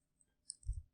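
A brief burst of a few light keystrokes on a computer keyboard while writing Java code, short close clicks followed by a soft thud, otherwise quiet.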